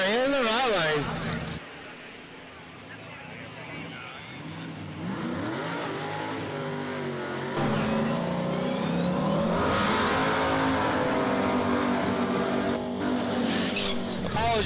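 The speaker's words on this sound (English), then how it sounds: "if you hear a little bit of motor revving or some burnout smoke" A drag racing car engine revs hard at a drag strip memorial race event, rising and falling in pitch with a loud, gritty roar and a sustained high-revving stretch, while a voice talks over it.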